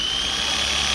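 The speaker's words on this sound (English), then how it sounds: "I'm going through with the stepper bit, making the holes bigger for spot welds." A step drill bit bores through rusty sheet-metal floor pan on a 1968 Dodge Charger, giving a steady, close, high-pitched grinding whine with no talk.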